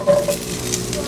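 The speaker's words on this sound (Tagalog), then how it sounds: "Maglalagay na po tayo ng sibuyas." Chopped onion sizzling in a hot pan for a paksiw na bangus dish, a steady close frying hiss with a brief stirring clatter at the start, no talk.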